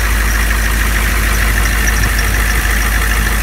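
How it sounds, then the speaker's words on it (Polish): A 1999 Humvee engine idling close up, a steady low rumble with a faint knocking pulse, running evenly and alone without any talk. "Moim zdaniem silnik chodzi dobrze."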